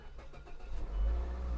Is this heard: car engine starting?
yes